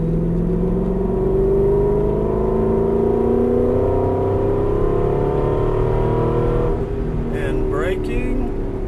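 Aston Martin V8 Vantage engine pulling hard under throttle, a steady loud drone with rising tone sweeps as revs climb, then a short shift break and faint talking near the end.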